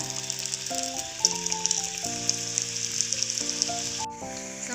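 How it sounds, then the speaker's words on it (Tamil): A couple of atta onion samosas fry in a small amount of hot oil in a kadai, giving a soft continuous sizzle and bubbling under background music. "2 தான் பொரிச்சு எடுக்க போகிறேன். சமோசாவை அதில் ஆட் பண்ணிக்கோங்க."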